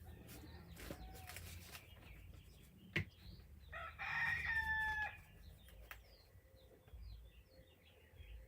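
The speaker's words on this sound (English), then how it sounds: "Okay, we hear you, Mr. Rooster." A rooster crows once at moderate distance, a bright, drawn-out call rising over a quiet outdoor background with a few faint bird chirps around it.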